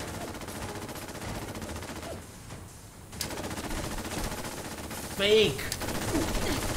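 Sentry Bot in Fallout 4 firing its machine gun in sustained dense bursts, loud and continuous apart from a brief lull, with someone shouting briefly over the gunfire.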